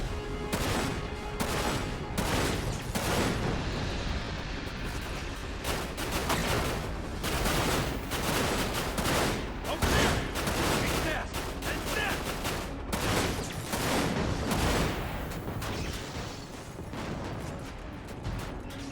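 Heavy gunfire from FF7 Dirge of Cerberus, dense overlapping shots and bursts firing continuously and loudly throughout, with occasional brief pauses between volleys.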